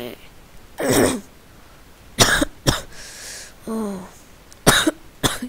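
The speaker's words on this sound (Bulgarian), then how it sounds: "Имам гадна кашлица." Someone with a nasty cough coughs and clears their throat close to the mic in several harsh bursts spread over a few seconds, with brief gaps and a short voiced sound between.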